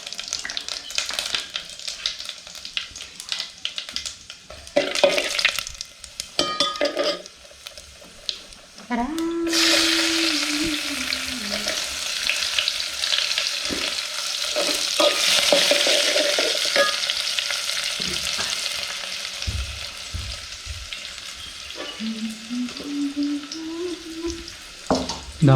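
Mustard seeds and cumin fry in hot oil for a Konkan-style Malvani jackfruit curry, giving a steady, close sizzle with scattered pops that swells in the middle, while someone talks over it.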